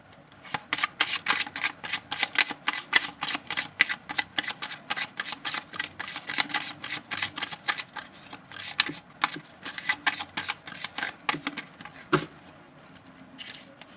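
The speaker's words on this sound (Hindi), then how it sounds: "एक शफल और करती हूँ और आपके पर्सन की निकालती हूँ करंट फीलिंग्स के लिए कार्ड्स।" Tarot cards being shuffled by hand during a reading, a rapid run of crisp riffling flutters and soft slaps that repeats steadily, fairly close, with a brief pause near the end and no voices.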